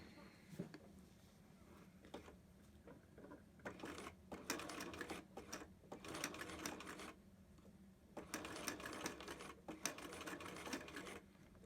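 A home sewing machine stitches a zipper pouch, running in bursts of rapid mechanical whirring that start and stop several times, with short quiet pauses between the runs of stitching and backstitching.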